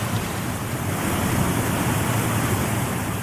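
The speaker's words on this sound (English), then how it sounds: "If you like, you can add in sounds like splashing water" Splashing water layered onto the waterfall setting of an Ecotones ASM1002 sound and sleep machine, a continuous loud rushing wash with faint surging texture, steady throughout and free of talk.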